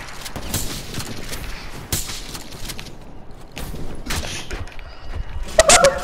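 Call of Duty gunfire crackles in a string of sharp shots and short bursts at moderate loudness, sometimes close together and sometimes sparse, without voices over it.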